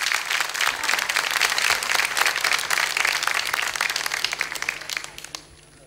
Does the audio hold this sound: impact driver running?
no